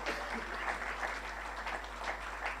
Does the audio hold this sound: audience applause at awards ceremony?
yes